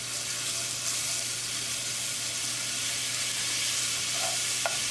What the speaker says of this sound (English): Cooking ginger, garlic, green chili paste for 30 seconds.